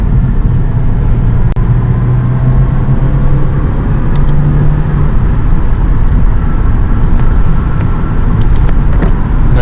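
A 2009 Lexus IS250 pulls hard on a highway, its engine note droning over steady road and wind noise from inside the cabin, with a brief rising tone partway through.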